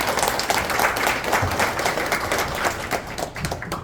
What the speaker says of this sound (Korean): 함께 박수로 시장을 열어주십시오.